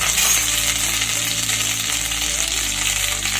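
Ginger paste frying in a pan with spice powders being added, a steady bright sizzle throughout at close range with no speech.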